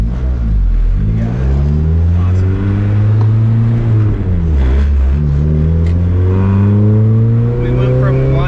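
A Mazda Miata with a K24 engine swap drives along with loud engine mounts. The engine drones loud and close inside the cabin, its pitch rising and falling through gear changes, and the mounts add heavy vibration throughout.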